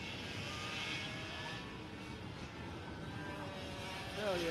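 Micro and Mini class ROK racing karts run side by side at Sonoma, their small engines making a continuous, buzzing drone at middle distance that swells slightly at the end.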